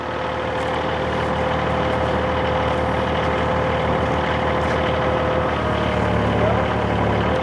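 A flooded excavator's engine drones continuously nearby at an even pace, a low heavy rumble with no clear breaks while it swings around.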